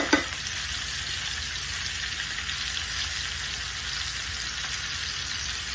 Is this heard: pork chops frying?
yes